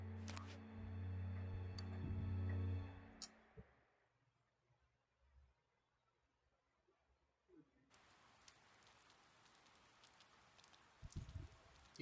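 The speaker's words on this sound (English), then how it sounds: "It's been raining for a few days" Rain falls in the video game Persona 4 Golden, a soft, steady hiss that comes in alone and faint after a louder stretch of game music fades to near silence.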